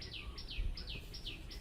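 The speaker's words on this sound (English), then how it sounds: "I heard some birds in the background" Birds sing outdoors near a rainforest, a repeating bright chirped phrase returning about every third of a second against a low, steady background hum.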